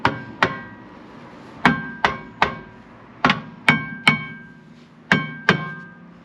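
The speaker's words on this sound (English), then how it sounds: "Hit it with a hammer." About a dozen sharp metallic hammer blows strike the brake hub of a Volvo 850, irregularly spaced, close and ringing briefly, with no talking.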